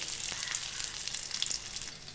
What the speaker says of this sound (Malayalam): ഇനി ഞാൻ കരിവേപ്പില കൂടെ ഇട്ട് കൊടുക്കാം.